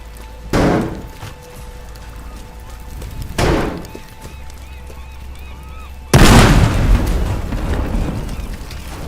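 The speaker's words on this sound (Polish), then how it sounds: "Albo spójrzcie chociażby na ten wybuch." Two muffled booms thud in the distance, followed by a louder, closer blast that rumbles and fades out slowly, in the video game Battlefield 6.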